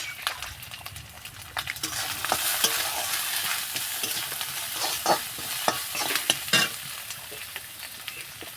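Lotiya fish jhuro sautéing in a pan, a steady close sizzle broken by repeated scraping stirs of a spatula across the metal, with no talk.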